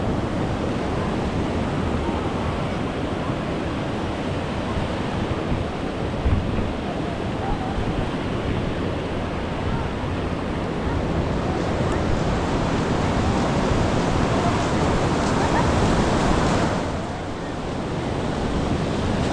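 Loud, continuous roar of sea waves and a strong current of rushing water with heavy wind buffeting the microphone, steady throughout with a brief dip near the end.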